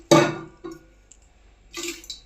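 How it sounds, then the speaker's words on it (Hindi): Water poured into a large metal pot for making tea: a loud splashing burst, a short clink, then a second quieter pour, with brief pauses between, close by and without talking. "नाप के पानी रखती हूँ मैं"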